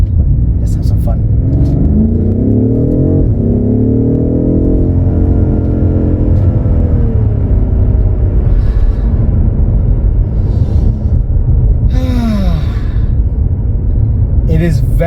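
A BMW F90 M5 accelerating hard, its loud, close engine note climbing steadily through the revs with a brief gear-change dip, followed by a few short bursts of talk over the continuing roar.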